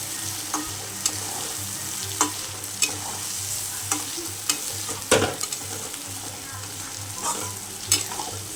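Spiced potatoes fry in a pan with a steady, close sizzle, broken by repeated scraping stirs at irregular intervals.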